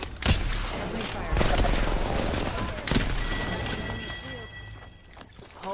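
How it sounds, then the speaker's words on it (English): Rapid bursts of enemy gunfire in Apex Legends, with several sharp volleys and impacts close by, over a busy game backdrop with faint talk. "Enemy fire."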